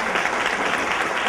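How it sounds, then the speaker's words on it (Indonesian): An audience at a business seminar in Surabaya claps steadily in dense, continuous applause, loud and close, with no pause. "Aplaus untuk sistem."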